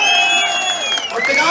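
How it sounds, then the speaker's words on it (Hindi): A crowd at a political rally in Bilaspur, Himachal, cheers and whoops loudly and continuously, a dense wash of voices with whistle-like tones on top, and scattered clapping within it. "ठोको ठोको ताली ठोको"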